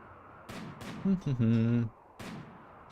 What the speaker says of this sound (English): Really good shooting, guys.